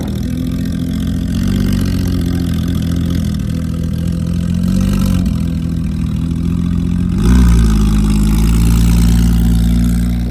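A Lamborghini SV LP 750 with a loud aftermarket exhaust idles at close range, a deep steady rumble that swells slightly in the middle and gets a sharper, heavier burst near the end.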